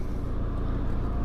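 A car pulls away with a steady low engine rumble and road noise, close and continuous, with no voices over it.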